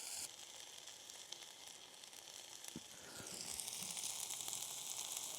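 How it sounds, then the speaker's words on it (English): Sausage and onion sizzle steadily in a pan over a camp fire, a close, continuous hiss and crackle that swells louder partway through, with no talking. "sausage and onion have just cooked down a little bit."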